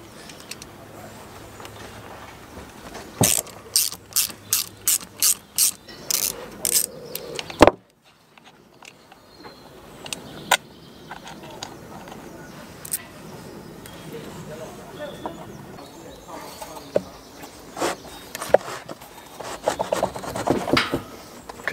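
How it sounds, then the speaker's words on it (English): Ratchet wrench backing out 6mm bolts on a boat saildrive during diaphragm replacement: a quick rhythmic run of clicks, then scattered knocks and scrapes close by. "And there are a further 3 6mm bolts to remove."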